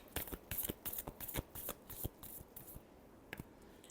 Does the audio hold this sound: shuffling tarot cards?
yes